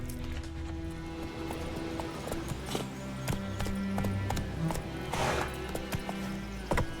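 Roach the horse trots in The Witcher 3, hooves clip-clopping in a steady rhythm over a low ambient game soundtrack, with occasional louder hoof strikes and a faint snort.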